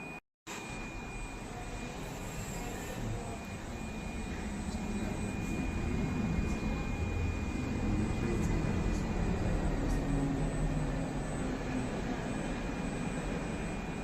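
Compression testing machine slowly squeezing a polyurethane bush at a 5 mm per minute test speed: a steady, loud broadband mechanical drone with a thin high whine running continuously throughout, no voices.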